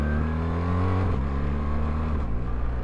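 BMW R1300GSA motorcycle pulling away in first gear on a slight downhill, a loud close engine note that rises, dips briefly as the revs shift, then climbs again.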